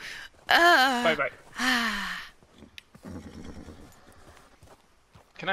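A horse in Red Dead Redemption 2 gives a loud, close whinny and snort over hoofbeats, with gasping vocal sounds from a player layered on top.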